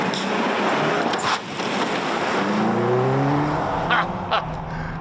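A 2025 Hyundai Ioniq 5 N electric car accelerating hard, with a loud rushing whoosh of wind and road noise and a rising synthetic tone sweeping upward through the gears, sounding close and continuous.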